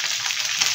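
Steady, close sizzling of pineapple chicken frying in a pan as vinegar goes in, a continuous crackling hiss with no talking.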